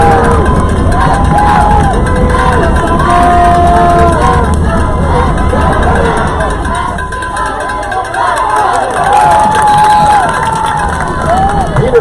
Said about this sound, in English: This is where the home team crowd gets loud,